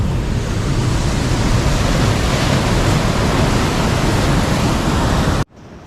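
Rough sea waves crash on Kuzhuppilly beach near Kochi, throwing spray up the shore. A loud, continuous roar of surf fills the air close by, then stops abruptly near the end.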